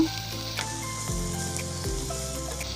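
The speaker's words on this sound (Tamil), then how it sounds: "இஞ்சி பூண்டு பேஸ்ட்டோட பச்சை வாசனை போகிற வரைக்கும் நல்லா ஃப்ரை பண்ணிக்கோங்க." Ginger garlic paste frying in a pan for chana masala, a continuous even sizzle close up with a faint stir or two, quiet and unbroken, over a steady low hum and no speech.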